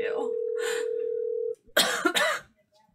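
A person coughs several times in a harsh burst of two or three loud coughs after a steady tone cuts out, close to the microphone on a radio show.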